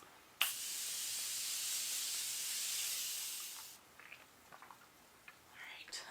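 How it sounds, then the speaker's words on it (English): Makeup setting spray mists onto a face in one long, continuous hiss lasting about three seconds and sounding close, followed by faint soft rustles. "So this is my #1 reach for setting spray."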